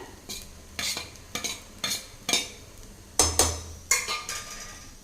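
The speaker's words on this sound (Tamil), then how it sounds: "சேர்த்திட்டு நல்லா கலந்து விட்டுக்கலாங்க" Repeated scraping strokes of a spoon stirring grated coconut into frying carrots in a pan, about a dozen rhythmic swishes with a faint sizzle underneath.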